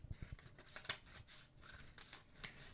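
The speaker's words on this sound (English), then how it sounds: "And then I'm going to cut on that line." Scissors snip along a folded paper line for a scale model tiny house, giving a series of close, crisp cutting strokes in irregular rhythm with soft rubbing in between.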